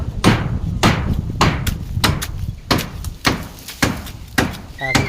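Hammer blows on timber while a house is built, about nine sharp strikes spaced roughly half a second apart, close and loud, with faint background voices.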